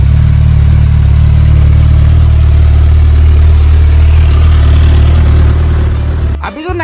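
A Hayabusa motorcycle engine idles steadily in GTA 5 after a restoration, a loud, deep, continuous rumble that holds even for several seconds before dropping away at the end.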